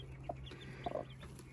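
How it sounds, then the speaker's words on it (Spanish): A hen settled on the ground with her newly hatched chicks gives a few soft, quiet clucks, with faint high peeps from the chicks over a low steady hum. "Ya la gallinita ya quedó aquí en el suelo con sus pollitos"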